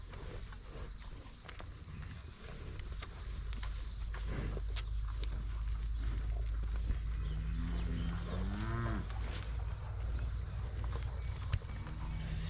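A cow gives a long, low moo partway through at feeding time on a farm, over rumbling background noise with occasional shuffling and faint clicks.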